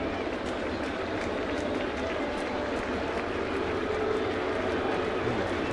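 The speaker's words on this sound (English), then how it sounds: "The crowd sort of getting the Hughes chant going again" A baseball stadium crowd chants for pitcher Hughes during a Seattle at New York game, a dense, steady roar that carries evenly from start to finish with no voices standing out.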